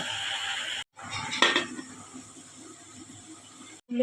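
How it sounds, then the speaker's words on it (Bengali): A lid goes onto a cooking pot of fish curry made with katla fish head and pui shak, giving a single metallic clink amid a quiet, low background. "এবারে আমি একটু ঢাকা দিয়ে দেব"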